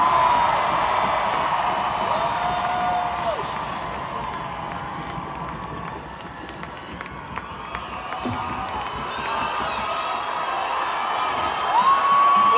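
A large concert crowd at a show at PNC in Charlotte, North Carolina roars and cheers continuously, with scattered whoops and whistles over a loud, sustained wall of noise.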